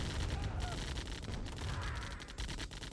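Artillery fire in a Command & Conquer: Tiberian Dawn tournament match, a dense continuous barrage of booming shots and impacts with a commentator talking over it.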